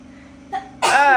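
A single sharp human sneeze bursts out loud and close after a short breathy intake, in a quiet indoor room with faint background hum.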